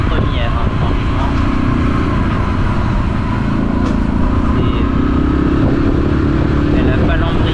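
A motorcycle that sometimes struggles to pull away in first gear revs loudly and moves off close by, its engine rumbling continuously while someone talks over it.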